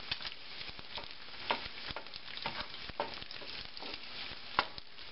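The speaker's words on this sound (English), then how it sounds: "Well, the bacon is cooking right along." Bacon frying in a decades-old steel skillet that dates to 1926, a steady soft sizzle with scattered pops and crackles throughout, with no talking.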